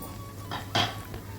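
Masala kuzhipaniyaram flipped in a paniyaram pan, heard as a few light metallic clinks and scrapes of a utensil against the pan, one louder clatter in the middle, over a quiet background.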